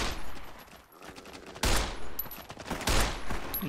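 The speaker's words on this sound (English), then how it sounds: "I'm gonna shoot you with my" Loud gunfire bursts in the Fallout New California video game, two heavy volleys with a brief lull before, sounding close and dense.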